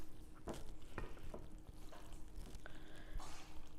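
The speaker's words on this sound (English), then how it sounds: "Now just mix it up until it's all well combined." Macaroni noodles being mixed into creamy salad dressing in a bowl: soft, wet squelching with a few light utensil taps against the side, close and fairly quiet, with no talk.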